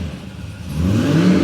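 LS V8 in a burnout car on an aggressive old-school tune, idling with a lumpy, loping pulse in the pits and then swelling louder as the revs rise, close and heavy.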